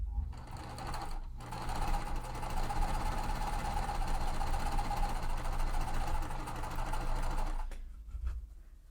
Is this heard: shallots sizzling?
no